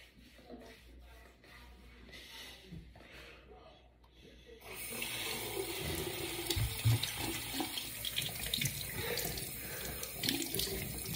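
Water runs steadily from a tap during rinsing, a broad hissing splash that starts softly and grows louder and closer about halfway through, with faint shuffling around it.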